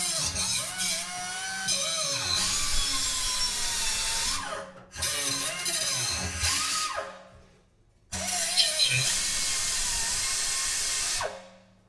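A power tool cuts out a fuel tube on an old Caterpillar dozer, running as a loud, harsh, high whine in long bursts with brief pauses and slowing dips between them.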